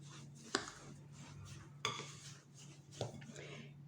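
A fork and spoon work butter into date pastry dough in a bowl, giving soft scraping and mushing with three sharp metallic clinks against the bowl, quiet and close.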